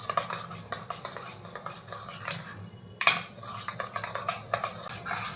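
Mango lassi is mixed with a spoon in a glass or bowl, producing rapid, rhythmic clinking and scraping of metal against the vessel, close and continuous with a brief pause midway.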